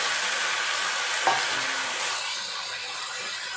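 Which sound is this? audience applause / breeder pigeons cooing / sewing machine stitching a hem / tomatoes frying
tomatoes frying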